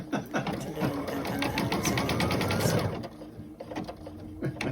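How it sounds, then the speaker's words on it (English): An embroidery machine runs steadily at close range, its rapid needle strokes forming a dense rhythmic whirr that eases off after a few seconds, with a voice speaking over it. "that's the embroidery machine"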